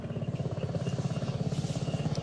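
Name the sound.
military helicopter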